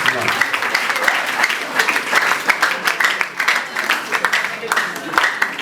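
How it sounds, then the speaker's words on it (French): A church congregation applauding at the 21st anniversary of an evangelical chapel, dense steady clapping from many hands that fills the room at close range. "Est-ce que vous voulez applaudir toutes ces personnes?"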